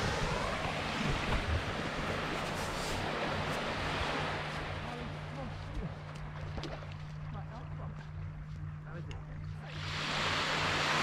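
Waves washing onto a beach on the Isle of Wight coast, a broad surf wash rising and falling with wind noise on the microphone and a person speaking briefly over it.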